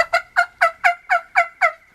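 A turkey call imitating a hen's clucking: eight sharp, evenly spaced clucks, loud and close, with nothing else heard.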